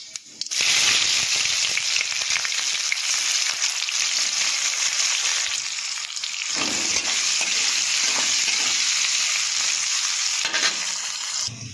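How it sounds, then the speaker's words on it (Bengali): Sliced onion fries in hot oil in a wok with dried red chilli and cumin seeds, giving a loud, continuous sizzle with occasional stirring scrapes throughout. "পেঁয়াজটা হালকা ভাজা হয়ে গেছে"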